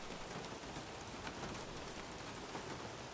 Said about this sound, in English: Hopefully, it continues to rain the whole race.